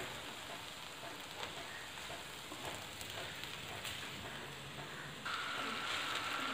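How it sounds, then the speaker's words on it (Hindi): Cooked rice with soy and chili sauce stir-fried over high heat for chicken egg fried rice, giving a steady, continuous sizzle that holds throughout and grows slightly louder near the end. "ये तेज़ आंच ही है नीचे और चावलों को हम यूँ मिक्स कर देंगे"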